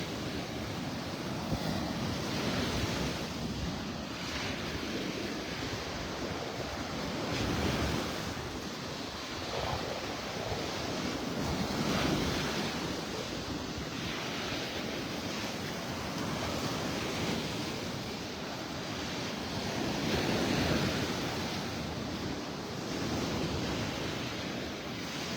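Steady roar of ocean surf breaking on Vanderbilt Beach in North Naples, Florida, waves washing in and out continuously with some wind noise, no voices.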